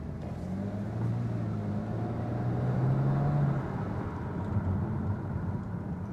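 High-mileage BMW 335i with rough shifting accelerates from inside the cabin, engine drone rising steadily in pitch then settling back to a lower hum, moderately loud with no talking.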